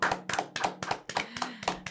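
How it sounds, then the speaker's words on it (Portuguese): A small group claps in a brisk, rhythmic burst of applause welcoming a guest to a Brazilian podcast studio, close and dry with no talk over it. "Eu quero que vocês me ajudem a receber uma calorosa salva de palmas"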